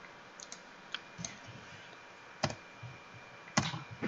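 A few sparse, quiet keystrokes on a computer keyboard, scattered clicks with pauses between them, over a faint room hiss and no talk.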